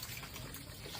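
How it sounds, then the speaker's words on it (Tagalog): Water poured into a cooking pot, a brief soft trickling splash, faint and close, lasting about a second with no voices. "Lagyan natin ng tubig yan."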